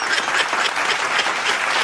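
A crowd gives a burst of applause, a dense, steady clapping that stays even and fairly loud from start to finish without a break.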